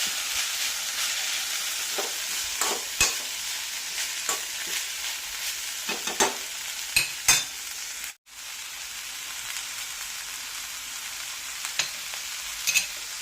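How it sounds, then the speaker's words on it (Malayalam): Grated coconut stirred into capsicum frying in a pan for a Kerala-style capsicum thoran, steady sizzle with repeated scraping and stirring strokes, near and alone, one brief dropout midway. "ഇതിലേക്ക് ചിരകി വെച്ചിരിക്കുന്ന ഈ തേങ്ങ ഇട്ട് കൊടുക്കാം എന്നിട്ട് എല്ലാം കൂടെ ഒന്ന് ഇളക്കി യോജിപ്പിക്കാം"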